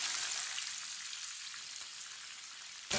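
Chicken pieces fry in hot oil for biryani, a steady, bright sizzle that holds evenly throughout, close and fairly loud, with no voices.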